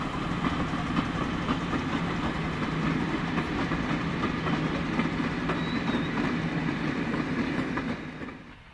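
Works locomotive 6 of the Perlen paper mill, alone, pulls a longer passenger train close by on the Sursee-Triengen railway, with steady clickety-clack of wheels on rails and a low engine drone, fading slightly at the end.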